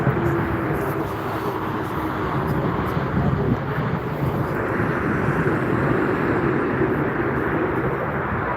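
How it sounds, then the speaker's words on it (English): An airplane taking off at Frankfurt airport, its jet engines making a loud, steady, broad roar that holds throughout with wind noise mixed in. "Another takeoff."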